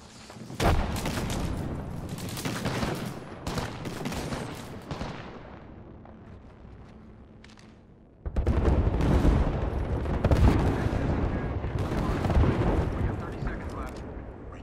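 Gunfire in the battle-royale shooter Apex Legends, loud dense bursts of rapid shots and blasts that die down briefly around the middle and then return hard, with game voice lines mixed in.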